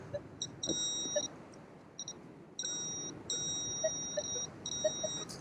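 A metal detector sweeping over soft soil in an old city park gives repeated high electronic beeps in short and longer bursts, steady and close, over faint outdoor background noise.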